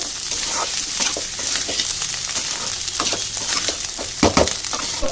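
Turmeric powder and spices sizzling in a hot pan while being stirred for biryani, a steady broadband fry hiss with scattered scraping clicks from the spatula, close and continuous with no talk.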